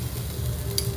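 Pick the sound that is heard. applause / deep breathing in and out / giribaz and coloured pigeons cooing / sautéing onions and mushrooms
sautéing onions and mushrooms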